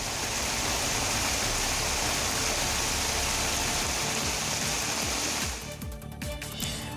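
Rain falls in Kottayam, Kerala, as a dense, even hiss of drops that holds steady throughout. It thins slightly near the end, with no voices.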